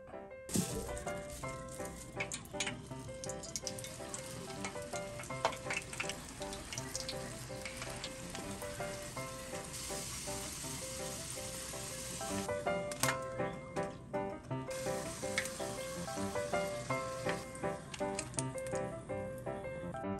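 Kwek-kwek, quail eggs coated in batter, fry in hot oil with a dense, continuous crackling sizzle that swells and fades over about twenty seconds. No one speaks.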